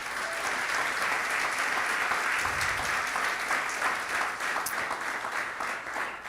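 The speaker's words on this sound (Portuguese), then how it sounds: "Vamos aplaudir o nosso Deus por isso." Steady, dense applause from a congregation at a church conference session, sustained throughout at moderate level with no speech over it.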